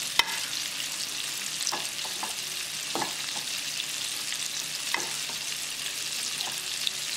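Steady oil sizzle as a second batch of popcorn fish fries, with scattered light clicks and scrapes as the pieces are mixed around in the pan; no one speaks.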